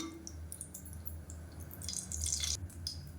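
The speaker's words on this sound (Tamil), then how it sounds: "இப்போ தேவையான அளவுக்கு எண்ணெய் விட்டுக்கலாம்" Cooking oil poured into a pressure cooker while making a South Indian side dish: a soft, continuous liquid trickle and drip, fairly faint and close, with no talking.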